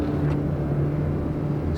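A car engine pulling under hard throttle while driving past a small airport, a steady loud low rumble with a faint rising tone and no talking.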